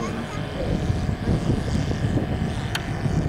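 A model Blériot XI replica airplane with a Saito engine, weighing 12 kg with a 2.55 m wingspan, drones steadily during takeoff at an air meet, a loud continuous propeller buzz with wind and crowd noise around it.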